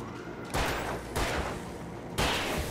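Turret gunfire in Alan Wake Remastered: three loud, booming shots about a second apart, each followed by a ringing decay over a steady background.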